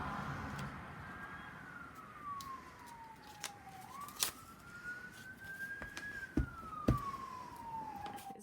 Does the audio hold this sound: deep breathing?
no